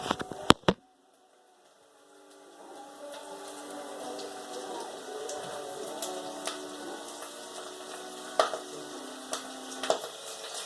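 Food sizzles and crackles as it fries in a pan, a steady hiss with scattered pops and a few sharp clatters, and someone talks briefly near the start.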